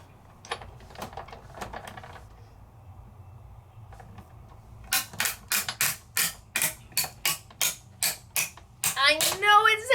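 A die cutting machine cranks a plate through, giving about a dozen sharp, evenly spaced creaks and cracks in the second half. Quieter handling noises come first.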